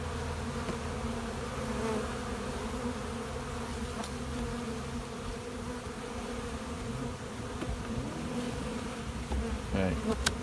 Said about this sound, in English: Get right on the bees.